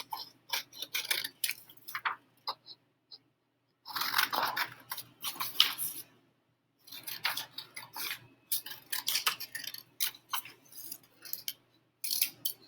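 Scissors cutting paper shapes, a series of crisp snipping bursts in uneven runs separated by short pauses, close and clear with no talk.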